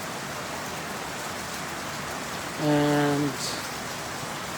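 Steady rain falls over a farm in the evening, a soft continuous hiss that holds throughout, with a brief voice speaking over it partway through.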